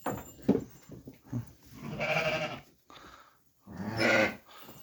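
Sheep bleat twice in long, wavering calls, loud and close, with shorter animal sounds and rustling before them, on a snowy day.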